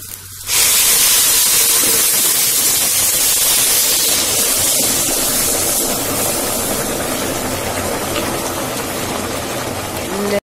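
Water poured into a hot pot while making koshari, bursting into a loud, sustained hiss of steam that continues steadily for several seconds.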